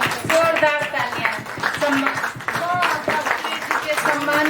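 Loud clapping at an annual celebration event, irregular bursts of hands mixed with a voice talking and singing over them in the foreground.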